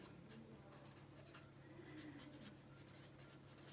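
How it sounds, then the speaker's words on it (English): Quiet, scratchy strokes of a marker on a classroom board during an algebra midterm review, short repeated squeaks and scrapes in an irregular rhythm with no talk. "my last tip, and I'm going to write it up here"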